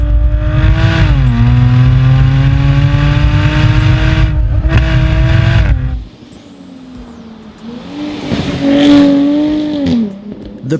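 Jaguar F-Type Coupe V6 revving hard through rising gear pulls with a loud, raspy exhaust note, a brief lift-off, then a quieter idle-like stretch before another surging rev.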